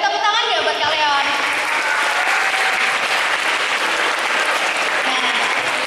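Loud, sustained applause from an audience at a business consulting talk, greeting a guest invited to the front, with a crowd murmur and a speaking voice running over the clapping.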